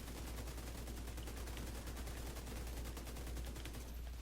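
Sustained rapid automatic gunfire from the Pestilence weapon in The Division 2, a dense unbroken stream of shots with no pauses and no talking over it.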